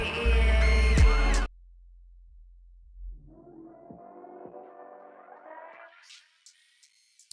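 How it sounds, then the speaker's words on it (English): Soloed Softube Weiss Gambit saturation band sweeping upward from 20 Hz through a mastered record: a short loud burst of full mix, then a thin filtered slice of music rising steadily in pitch until it fades out. "So what you're hearing is where saturation is going to be applied per frequency that you choose."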